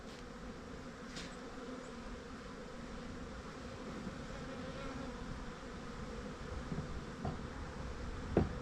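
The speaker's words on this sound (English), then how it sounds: "The bees are already getting on me." Bees from an aggressive monster beehive swarm as it is torn down, a low, constant buzzing hum close by that swells slightly toward the end, broken by a few faint knocks.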